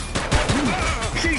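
A short burst of police shootout gunfire in the video game The Precinct: loud, rapid shots cracking over a raised voice.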